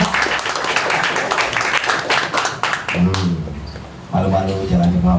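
An audience applauds loudly for a few seconds at a motorsport team's drifter announcement, then the clapping cuts off as a voice speaks over a thinner tail of claps.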